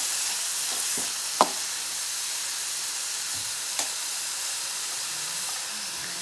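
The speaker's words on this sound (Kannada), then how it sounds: "ಸೊ ಇದೆಲ್ಲ ಹಾಕಿ ಸ್ವಲ್ಪ ಹೊತ್ತು ಫ್ರೈ ಮಾಡ್ಕೋತೀನಿ." Chopped beans fry in a pan for masala pasta, giving a steady, close hiss of sizzling with a couple of brief clinks of a spoon stirring against the pan.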